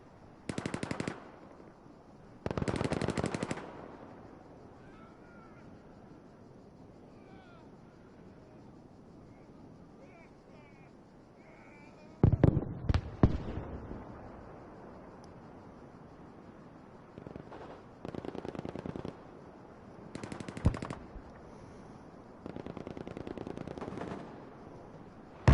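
Gunfire and dynamite explosions in a competitive video game match: several loud separate bursts of rapid fire, then a cluster of sharp blasts in the middle, with more bursts later over a quiet background.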